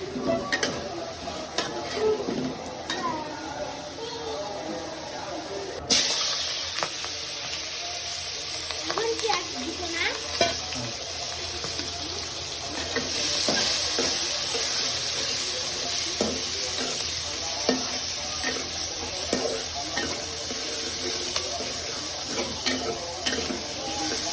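Onions fry in hot oil for a mutton curry, a steady close sizzle that swells into a brighter hiss after a few seconds, with repeated stirring scrapes throughout.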